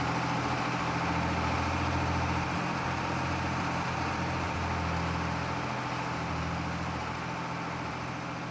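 A John Deere tractor (8410) idles steadily in the Farming Simulator 25 game, a continuous low engine rumble with even droning harmonics holding at a constant level throughout, no voices over it.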